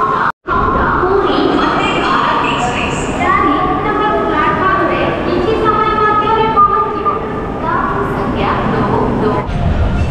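The Dhauli Express rumbles and rolls away from Bhubaneswar Junction with rail clatter and hiss, while people talk nearby over the steady noise of the carriage.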